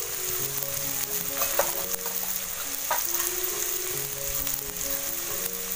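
Onions frying in a pan on a wood-fired stove give a loud, continuous sizzle, with intermittent scrapes and stirring strokes across the pan.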